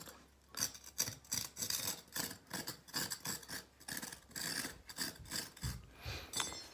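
Faux stone floor bevel being chipped away by hand, giving a dense series of short scraping, rasping strokes in an uneven rhythm, fairly quiet and close with no voices.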